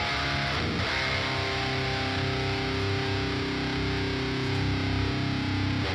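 A heavily distorted electric guitar plays through an HM2-style amp simulator with a thick, buzzing, saturated tone, sustained and loud with a brief picked attack near the start and no voices.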